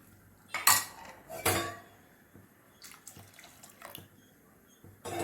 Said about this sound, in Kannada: ಕಟ್ ಮಾಡಿರೋಂಥ ನುಗ್ಗೆಕಾಯಿನ ಹಾಕ್ಕೊಂಡು ಬೇಯಕ್ಕೆ ಬಿಡೋಣ